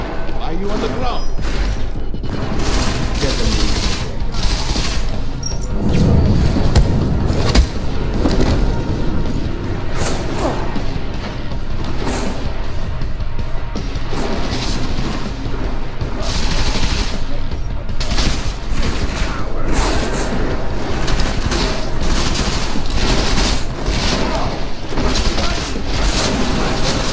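Gunfire in the video game Deus Ex Mankind Divided, dense bursts of shots and crashes stacking into a loud continuous barrage under an excited voice talking over it.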